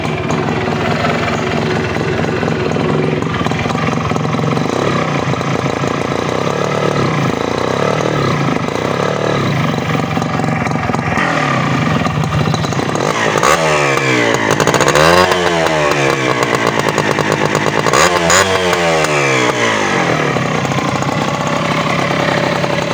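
An old Honda H100S motorcycle with CDI ignition runs close by, a loud buzzing two-stroke engine holding a steady rattly idle with several quick revs rising and falling in the second half.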